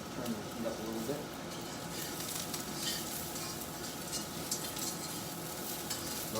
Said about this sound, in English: That's sizzling, if you like. Brussels sprouts are caramelizing.